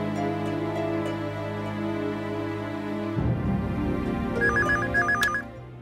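Phone ringing: a mobile's electronic ringtone plays a repeating tonal pattern, joined after a few seconds by a beeping melody and ending with a sharp click, near and clear with no speech.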